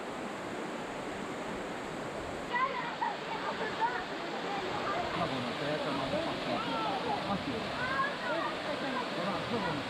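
Seven Sisters waterfall near Baku, Azerbaijan, a steady broadband rush of falling water heard from nearby, continuous and even throughout with faint outdoor sounds over it.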